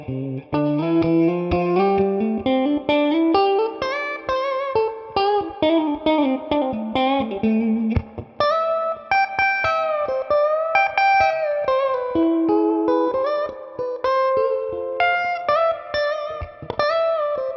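An electric guitar, a Fender, on middle and bridge pickups plays a fluid melodic solo with sustained, slightly overdriven notes and quick runs, steady and loud throughout with no talking.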